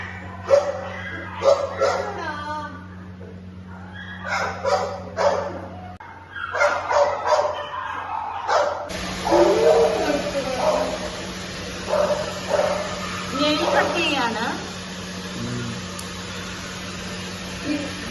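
Several dogs barking and yipping at a pet grooming place in Thrissur, close and fairly loud in irregular bursts, with people talking and a steady background hum.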